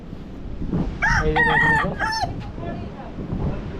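Native chickens at a beach shack near Tajpur sea beach, a rooster crowing loudly and close with a few soft clucks around it, set against faint wind.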